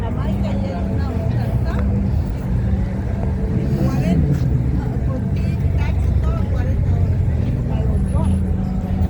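Steady traffic roar from cars driving along a street in Montreal during the Formula 1 weekend, a continuous dense rumble of passing engines with no clear single pass-by, fairly loud and close, with no talk over it.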